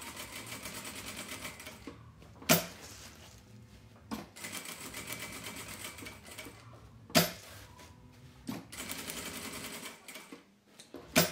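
Sewing machine quilting a fabric placemat runs in close, rapid mechanical bursts, its stitching rhythm broken by short pauses and a few sharp clacks as the work is turned.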